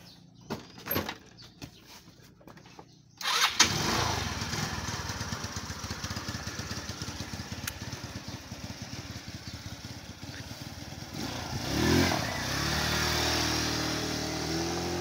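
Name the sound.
Easy Ride 150 motorcycle engine starting and idling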